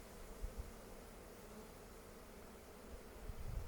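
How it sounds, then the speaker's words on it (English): Honeybees hum steadily at an open hive during a summer inspection, a faint, even buzz that swells slightly toward the end with a few soft knocks. "All the other bees will go under the excluder."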